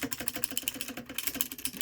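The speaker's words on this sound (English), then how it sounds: "the typing experience is just great on this keyboard in general" Rapid, steady typing on a Newmen GM610 wireless gaming keyboard with clicky blue switches, a dense run of sharp, crisp keystrokes close to the microphone, with no talking.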